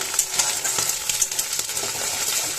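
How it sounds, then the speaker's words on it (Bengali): An egg fries in a pan with a steady, close sizzle and crackle of hot oil, interrupted by a few light scraping taps of a utensil. "আমার ডিমটা প্রায় ভাজা হয়ে আসছে"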